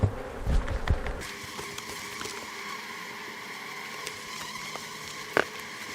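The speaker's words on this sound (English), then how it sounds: "lots of bees in there in my face" A swarm of honeybees buzzes close around a beekeeper during a fall inspection of a hive, a continuous droning hum after a few rough handling bumps at the start, with one sharper knock near the end.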